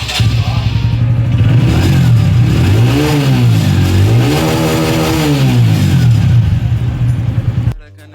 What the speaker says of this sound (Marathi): तर आपण आता गाडीचा आवाज बघूया.